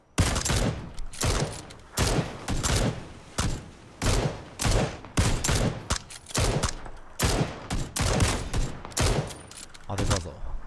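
Video game gunfire: loud, close bursts of rapid shots repeat every second or so in a steady, heavy rhythm, with faint voices underneath.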